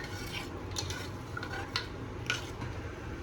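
Spoon scraping and stirring cumin seeds in ghee inside a pot, soft repeated metallic scrapes with a faint sizzle underneath, close and quiet with no talking.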